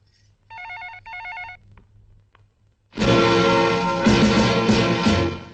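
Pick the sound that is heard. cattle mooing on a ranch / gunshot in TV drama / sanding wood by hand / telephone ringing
telephone ringing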